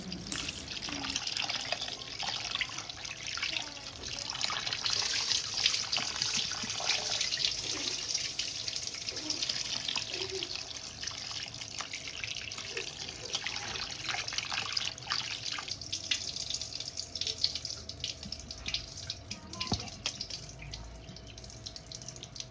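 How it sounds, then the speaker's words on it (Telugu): Tap water runs steadily over raw chicken being washed in a sink before frying, a continuous close splashing flow lasting throughout with no talking. "చికెన్ అయితే నీట్గా కడుక్కోవాలి ఫ్రెండ్స్ ఫ్రెష్గా మంచిగా నీట్గా కడుక్కోవాలి"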